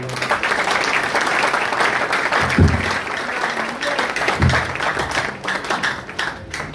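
Applause from a large crowd at a skills training event in Sunyani, a thick continuous clatter of many hands, fairly close and sustained, with low voices mixed in.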